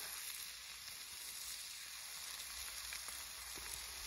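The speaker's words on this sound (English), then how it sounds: "we stir this in and we fry this off until the oil starts to come back out the curry paste" Chicken frying with curry paste in oil in a pan outdoors, a quiet continuous sizzle with faint crackles and small stirring scrapes, no voices.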